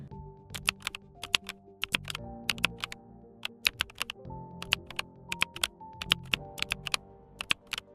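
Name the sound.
AI-generated keyboard typing sound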